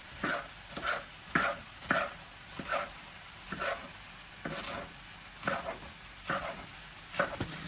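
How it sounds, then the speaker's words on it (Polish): A knife chops napa cabbage into strips in a steady rhythm, about a dozen sharp cuts against a board, close and clear with no talk. "Teraz kroję kapustę pekińską."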